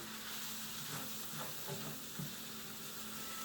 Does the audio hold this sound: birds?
no